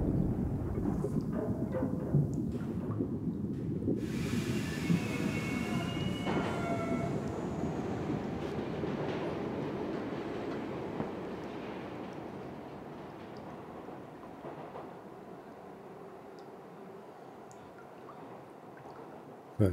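Train riding ambience in the video game A Memoir Blue: a low continuous rumble of rolling carriages with faint metallic squeals and rattles, slowly fading over about twenty seconds.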